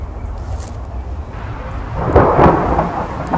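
A low rumble of thunder builds and rolls over about a second, fairly loud against steady background noise, with no voices.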